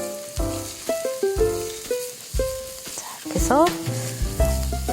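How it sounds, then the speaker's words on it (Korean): Mushrooms stir-fry in cooking oil in a preheated pan, with loud sizzling and scraping of a utensil in short repeated strokes, while a person talks briefly over the cooking. "버섯을 먼저 볶죠"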